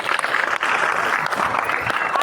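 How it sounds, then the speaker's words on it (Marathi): An audience at a school event claps loudly and steadily for the teachers, a dense burst of applause from a crowd close by. "यांच्यासाठी जोरदार टाळ्या होऊन जाऊ द्या."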